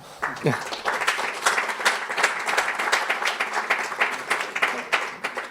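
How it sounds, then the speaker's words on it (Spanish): A modest audience at a business presentation in Bilbao claps after the speaker's closing, sharp distinct handclaps forming a lively, fairly close round of applause, with a brief voice at the very start. "Un aplauso."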